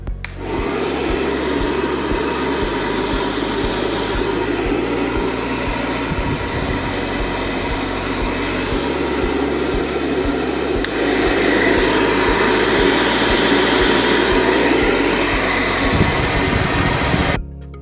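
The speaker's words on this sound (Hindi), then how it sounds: "ये प्रोफेशनल मयार का पायदार हेयर ड्रायर घरेलू इस्तेमाल के लिए बेहतरीन है।" A Silver Crest professional-grade hair dryer running, a loud steady close whir and rushing airflow that holds for about seventeen seconds with slight shifts in pitch and strength, no speech.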